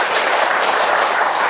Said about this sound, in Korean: 그래서 박수 한번 칠까요?